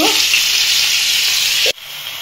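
Whole pointed gourds frying in hot oil give a loud, steady sizzle that runs unbroken for nearly two seconds, then cuts off sharply and settles into a quieter, thinner hiss.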